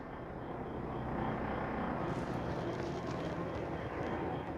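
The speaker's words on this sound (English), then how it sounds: "There's a freaking plane going over me." Airplane passing overhead outdoors, a steady broad roar of engine noise that stays loud and constant throughout, with no other sound standing out.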